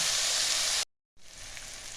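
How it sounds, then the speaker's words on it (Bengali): Spice paste sizzles loudly in a pan and cuts out for a moment midway, then the frying resumes slightly quieter, close and steady, with no voices. "মশলাটা আবার আমি 1 থেকে 2 মিনিট ভালো করে কষিয়ে নেব"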